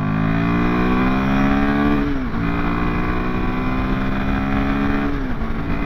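Royal Enfield Himalayan 450 motorcycle engine pulling hard in second gear, a loud steady drone with rising harmonic pitch that dips briefly at about two and five seconds as revs shift, close and continuous.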